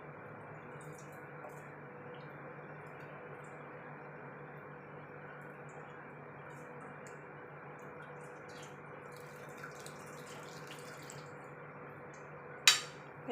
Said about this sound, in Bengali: এইভাবে আমি ছানাটা ছেঁকে নেব